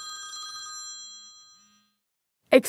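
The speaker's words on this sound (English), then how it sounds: "Tony Sr. glances down at his ringing cell phone." A cell phone rings with a thin electronic warble of steady high tones that fades out over about a second and a half, then silence, ending on a short loud burst of noise.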